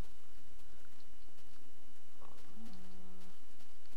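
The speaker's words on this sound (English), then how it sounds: "Ugh, so many animals." A single short, quiet cow moo from a video game farm full of animals rises late over a soft, steady background hiss.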